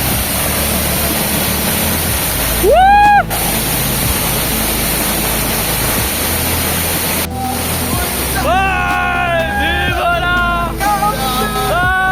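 Hidden waterfall in Goa, a steady loud broadband rush of falling water throughout, with voices and brief high whoops or shouts rising over the roar.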